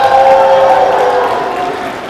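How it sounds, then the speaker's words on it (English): A crowd at a high school basketball event between Mount Horeb and DeForest cheers loudly for a contestant, a sustained roar of voices and applause with a tonal hum running through it, fading slightly toward the end. "So cheer on your representative, Jake from Mount Horeb."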